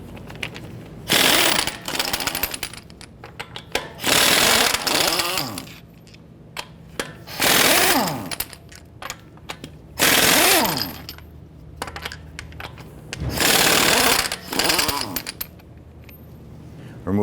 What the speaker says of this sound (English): Using our 22mm socket, we're going to go ahead, loosen, and remove our lug nuts.